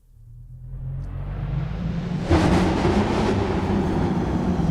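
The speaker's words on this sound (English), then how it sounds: "This is the sound that inspired me to write this cue, and it's this trailer atmosphere" Synthesized trailer atmosphere built with pitch bend and modulation automation, a low rumbling drone that swells steadily and surges brighter midway, sustained and dense with no voices.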